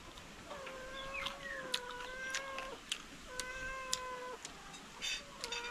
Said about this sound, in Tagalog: Pusa lang maririnig mo.